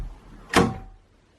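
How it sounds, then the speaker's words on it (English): A cat tries to open a locked door, producing one short rattling thud and clunk of the door, close by in a quiet room, followed by a brief fading rumble. "he just tried to open the door,"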